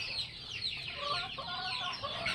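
Chickens and chicks kept in a cardboard box on a small farm cluck and peep continuously, a busy cluster of high chirps close by with steady low background noise.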